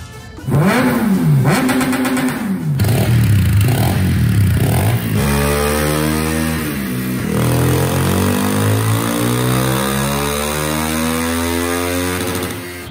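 A Honda CRF300L big bore dual-sport motorcycle on a dyno, its engine revving loud and close: a few throttle blips rising and falling, then one long sustained pull climbing steadily in pitch, with no talk.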